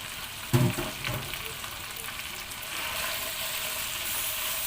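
Steady sizzle of string beans, pork and butternut squash stir-frying in a pan, with a brief clatter near the start and continuous hiss throughout, no talking.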